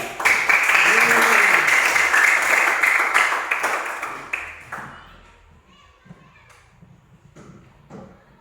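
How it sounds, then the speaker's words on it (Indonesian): A classroom audience of children claps together for several seconds, loud at first and then fading into scattered taps and quiet chatter. "Mari kita berikan aplaus untuk video kita nonton."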